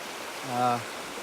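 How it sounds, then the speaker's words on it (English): A creek in Red River Gorge, swollen above its normal level, rushes with a steady broadband roar throughout, and a voice briefly cuts in partway through. "I'm sure this creek is up a bit more than normal."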